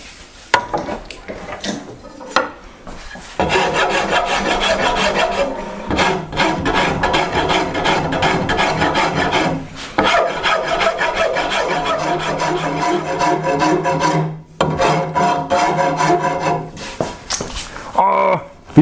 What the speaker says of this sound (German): ich entscheide mich dafür, diese Kanten auch noch abzurunden